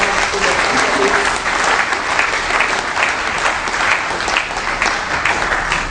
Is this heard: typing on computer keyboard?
no